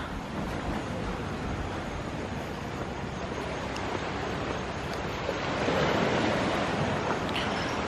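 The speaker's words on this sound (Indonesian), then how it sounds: "ini pasti kalian dengar bunyi" Steady ocean surf rumbles continuously at a beach resort on Langkawi, Malaysia, mixed with wind noise buffeting the microphone, swelling slightly louder toward the end.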